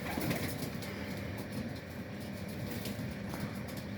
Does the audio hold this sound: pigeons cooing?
yes